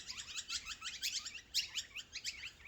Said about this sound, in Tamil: பேர்ட்ஸ் சத்தம் போது பாரு